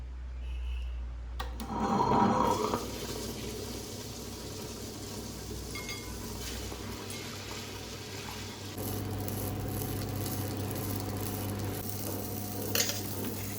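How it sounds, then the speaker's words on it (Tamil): A wet grinder grinds soaked rice into batter for kuzhi paniyaram, a steady low mechanical churn with a wet, swishing texture running through the whole stretch, briefly louder near the start and again in the second half. "இப்போ நம்ம அந்த அரிசியை போட்டு ஆட்டிடுவோம்ப்பா."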